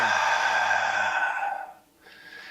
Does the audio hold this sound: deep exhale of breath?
yes